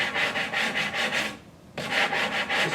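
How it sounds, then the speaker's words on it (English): Sandpaper rubbed back and forth over wood to sand it flush on a bookcase, rhythmic rasping strokes close up, with a brief pause midway before the strokes resume. "keep it nice and flat, because the sanding paper cuts really fast"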